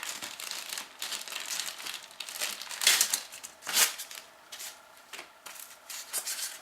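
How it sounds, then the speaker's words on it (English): A piece of styrofoam inside a plastic bag is handled up close, giving continuous crinkling and rustling with two louder crunchy bursts partway through, no talking. "It is literally a piece of styrofoam that was inside a plastic bag."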